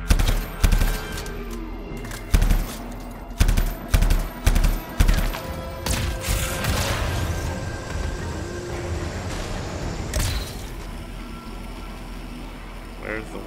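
Gunfire in the Anthem video game, with several loud, sharp bursts of shots clustered early, then fading into a lower mechanical rumble while a player talks.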